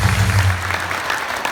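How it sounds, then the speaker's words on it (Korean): Short round of audience applause at a lecture, dense clapping over a low hum that fades slightly toward the end. "감사의 박수를 보내주시기 바랍니다"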